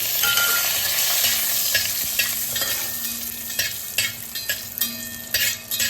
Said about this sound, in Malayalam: നമ്മുടെ നെയ്യ് ചൂടായി. കശുവണ്ടി നമുക്കൊന്ന് വറുത്ത് കോരി വെക്കാം.